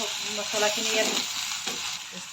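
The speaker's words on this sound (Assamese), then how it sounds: "মছলাখিনি ভালকৈ লৰাই মানে মিক্স কৰি দিছোঁ চবৰ লগতে, যাতে প্ৰত্যেকডাল ফুলতে মছলাবিলাক লাগি যায়।" Banana flower curry in a pan, spices being stirred in, a loud continuous sizzle close up with stirring strokes moving through it for a couple of seconds.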